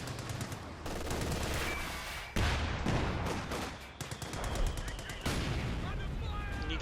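Gunfire from the strategy video game Company of Heroes 2, with bursts of machine-gun rattle and heavier booming shots in rapid overlapping volleys, loud throughout with a voice talking underneath.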